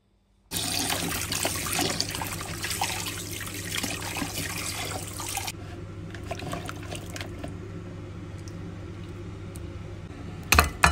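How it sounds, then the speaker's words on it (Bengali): Running water gushes steadily over freshly cut fish being washed, a loud continuous splash that drops to a softer trickle partway through before a few closing clatters. "এই তো আমি এখানে মাছগুলা কেটে একদম ধুয়ে ফ্রেশ করে নিছি"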